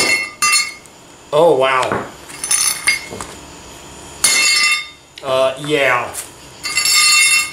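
A 4-pound sledgehammer strikes a flux core horizontal butt weld, giving several sharp, loud metallic clanks with ringing clinks, spaced a few seconds apart, while people react in brief speech between the blows.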